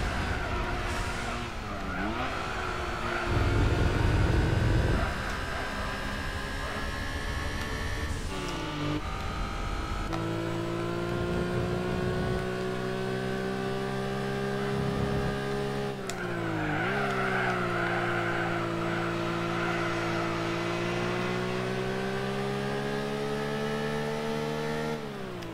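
Racing engines in the video game Gran Turismo 4, a lightweight K-car cup race, with a steady high engine drone, gear changes and brief tire squeal throughout, loud and continuous with no talking.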